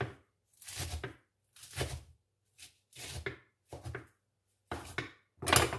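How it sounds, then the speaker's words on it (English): Seven crisp knife chops through a head of lettuce on a cutting board, each a short crunchy burst followed by a pause, close and fairly soft with no talking. "This is my favorite knife for cutting the lettuce"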